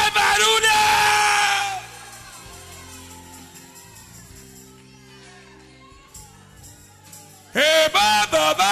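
Church congregation at an international revival congress shouting and yelling, a loud burst of crowd cries at the start fading into lower murmuring noise, then another loud surge at the end, with voices throughout.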